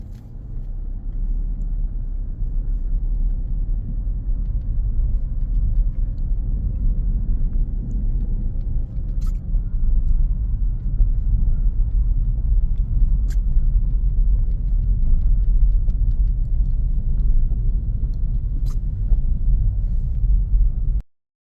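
A car drives along a North Carolina road after Hurricane Helene, giving a steady loud low rumble of engine and tires from inside the cabin, with a few faint ticks over it and no talking.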